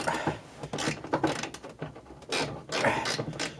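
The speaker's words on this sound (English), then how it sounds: "trying to tighten it as much as I can so I can actually fit the ratchet inside" A socket ratchet clicks in quick bursts while tightening harness bolts, the rapid pawl ratcheting repeating several times at close range with brief pauses between strokes.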